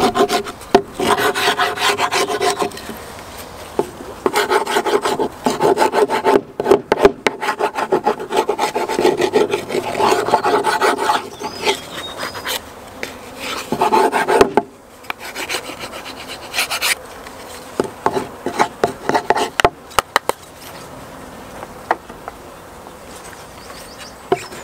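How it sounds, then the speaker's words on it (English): A tool scrapes wax and debris off a wooden beehive floor in rapid, rasping strokes repeated throughout, with bees buzzing nearby on a warm morning. "what we're going to do is just scrape all of the wax and rubbish off the bottom of this floor"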